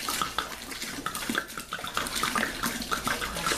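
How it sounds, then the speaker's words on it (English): Water is dumped onto grains for an Irish stout mash, a continuous splashing and gurgling pour with small bubbly trickles running throughout. "I'm just going to dump this water in on top of the grains that are already in there."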